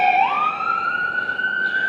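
An ambulance siren on a street in Pottsville, Pennsylvania, wailing loud and near, its tone sweeping upward and then holding a sustained high pitch.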